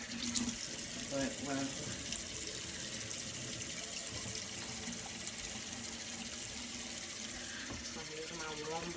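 Warm water runs from a tap into a sink in a steady, quiet splashing stream, continuous for the whole stretch, with a voice speaking briefly and softly over it.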